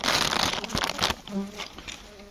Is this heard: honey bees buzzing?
yes